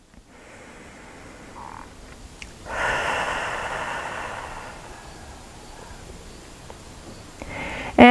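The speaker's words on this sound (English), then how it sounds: "take a couple cleansing breaths in through the nose and out through the mouth" Slow cleansing breaths during a home yoga session, a long airy exhale through the mouth rising in the middle, with softer nasal inhales around it, close and unaccompanied by speech.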